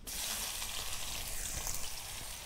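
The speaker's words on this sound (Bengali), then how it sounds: "পেঁয়াজটা আমি ভালো করে ভেজে নেব।" Onion frying in hot oil with cinnamon, cardamom and bay leaf for Bengali sweet pulao, a steady close sizzle and crackle throughout, faint and with no talk.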